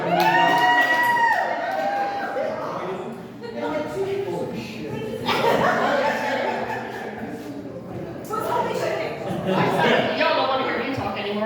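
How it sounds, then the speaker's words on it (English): A crowd at a beach clubhouse toast breaks into loud applause and cheering in several waves, with clapping and whoops swelling and fading across the stretch. "Big round of applause for this guy right here."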